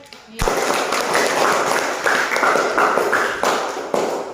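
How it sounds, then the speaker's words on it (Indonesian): Classroom applause for student groups after their performances during a teaching practice lesson, a burst of clapping starting abruptly and continuing steadily at close range. "Kita beri tepuk tangan untuk semua kelompok yang sudah tampil dengan baik."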